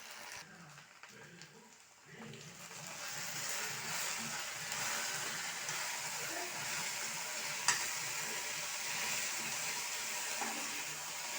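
Okra frying with curry leaves and Everest chicken masala in a pan, a soft steady sizzle with stirring scrapes and a brief clink, faint and continuous.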